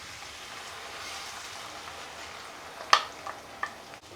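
Tomato paste goes into a pan of frying ginger garlic paste for egg sambar, a soft steady sizzle, then a sharp spatter and a few smaller pops near the end.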